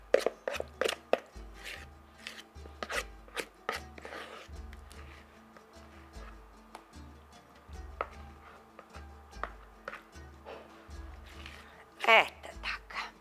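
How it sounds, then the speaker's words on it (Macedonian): A spoon scrapes very oily sweet dough from a pan for a traditional village dessert, making repeated short scraping clicks at close range. A voice speaks quietly under and between the scrapes. "Да земам да го изгребам со една лажица"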